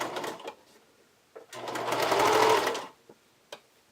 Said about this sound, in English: I'm starting from the open side seam using a zigzag stitch